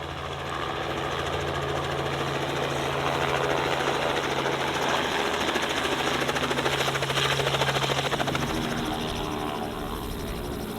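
Helicopter engine and rotor drone from a tour flight near the Mackinac Bridge in Michigan's Upper Peninsula, a steady loud mechanical hum with fluttering rhythm sustained throughout, no voices.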